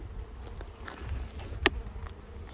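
Honey bees buzzing around a beehive at a 4-H beekeeping session, a faint steady drone with a sharp knock partway through.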